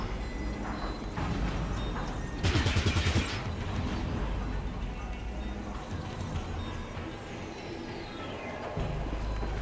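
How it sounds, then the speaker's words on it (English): Minigun fire in the video game Fallout Tactics, heard as a loud, sustained wash of gunfire with a dense, rattling burst standing out near the middle, mixed with other game noise throughout. "No, that guy's minigun bursts are still going to hit my party."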